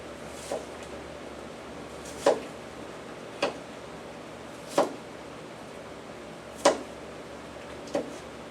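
Sharp knife chops through an onion on a cutting board in a home kitchen, six separate crisp cuts spaced one to two seconds apart, close and fairly quiet with no talking.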